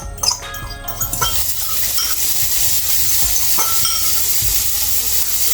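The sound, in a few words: garlic sizzling in hot oil in a pan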